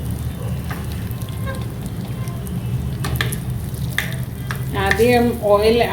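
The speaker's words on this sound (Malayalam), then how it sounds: "ഈ ബദാം ഇതുപോലെ സ്മോൾ പീസസ് ആയിട്ട് എടുത്തത് അത് നമുക്ക് ഈ ഓയിലിട്ടൊന്ന് ഫ്രൈ ചെയ്തെടുക്കാം" Small almond pieces fry in oil, crackling and sizzling steadily with a few sharp stirring clicks, while a voice comes in near the end.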